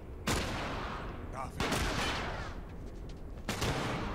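Gunfire in the video game The Last of Us: several loud, close bursts of shots separated by short gaps, with a voice shouting briefly in between.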